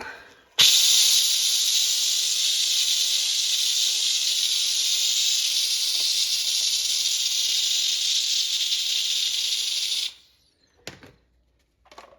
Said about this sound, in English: Steam cleaner.